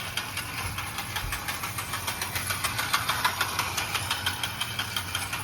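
O gauge model train engine chuffing in a steady quick rhythm of regular puffs over a continuous mechanical whir, close and even throughout, with no voices.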